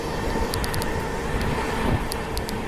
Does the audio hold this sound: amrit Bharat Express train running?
yes